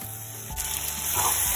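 Oily sizzling of a thick green pea paste hitting a hot pan of spiced oil, rising louder after a soft start and continuing steadily, close by with no talking.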